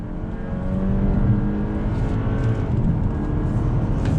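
A 2021 Toyota Camry XSE, a front-wheel-drive midsize sedan, accelerates under throttle, its engine note climbing steadily in pitch and staying loud and close for several seconds.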